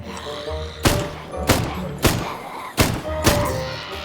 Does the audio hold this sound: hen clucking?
no